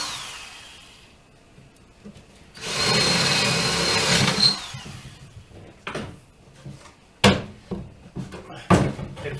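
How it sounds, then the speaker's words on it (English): Power drill boring through the wood of a homemade swarm trap, one loud whirring burst of a few seconds, followed by scattered knocks and clatter of handling the box. "I prefer to drill from the inside. That with my drill,"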